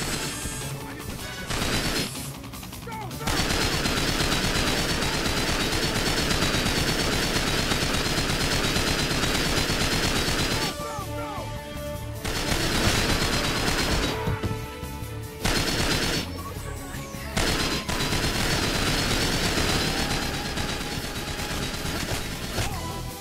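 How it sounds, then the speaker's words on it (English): Rapid automatic gunfire from a Ronin in the video game James Bond 007: Nightfire, loud and nearly continuous, with sustained bursts broken by a few brief pauses. "That Ronin is totally shooting them, isn't it?"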